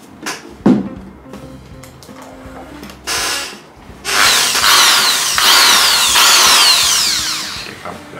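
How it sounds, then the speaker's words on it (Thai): Power drill boring a jack hole in an acoustic guitar body during a repair: a few brief clicks and short motor bursts, then a sustained loud whirring bore of several seconds, close up with no talk. "ต่อไปเดี๋ยวเราจะมาเจาะตรงนี้นะครับเพื่อที่จะทำเป็นรูแจ็คนะครับ"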